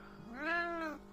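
A house cat gives one drawn-out meow close by, rising and then falling over about a second, with quiet hum in the background.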